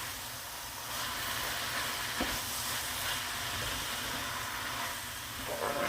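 Vine leaves steaming and sautéing in a covered pot on the stove give a steady, fairly faint hiss that runs unbroken throughout, with no voices.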